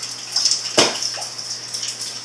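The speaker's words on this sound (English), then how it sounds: "It's raining really bad. We're flooding, man." Heavy rain is flooding a home. Water hisses and rushes steadily, and one sudden splash or knock stands out near the start.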